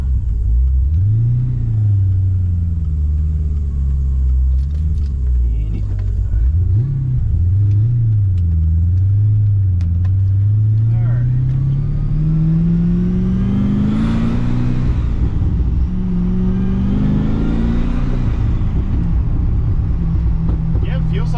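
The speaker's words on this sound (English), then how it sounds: "Always hate this intersection, especially with the twin disc clutch." Pontiac GTO with a twin disc clutch pulling away from an intersection, its deep engine rumble rising through revving and gear changes, loud and close from inside the car, while someone talks over it.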